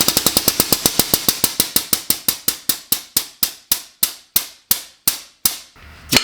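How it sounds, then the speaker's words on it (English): A hydraulic hand pump being worked to press a male dimple die into sheet metal: a long series of sharp, loud clicking strokes, rapid at first and gradually slowing and spreading out, with no talk. "get your male die on, make sure it's the right way, thread this nut on, and pump away."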